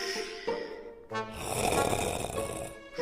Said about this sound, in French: Le pirate dormait profondément et ronflait comme un ours.